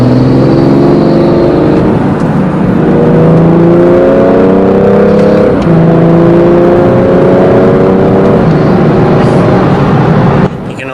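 A BMW B58 engine fitted with a BMS intake revs steadily through the gears, its loud rising drone pulling in repeated climbs with brief breaks between shifts, steady cabin noise throughout.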